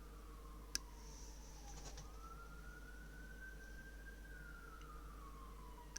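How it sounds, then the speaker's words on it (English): Emergency vehicle siren wailing outside, rising and falling in a long steady sweep, faint and distant under a constant low room hum, with a couple of sharp clicks nearby. "We've got sirens going on outside."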